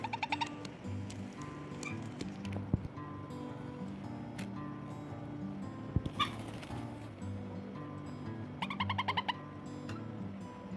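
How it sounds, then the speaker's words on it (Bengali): Two young parakeet chicks make short, high, shrill chirps in scattered bursts, including a quick rapid run near the end, over a low background hum. "এটা টিয়া পাখি। দুটোই টিয়া পাখির বাচ্চা"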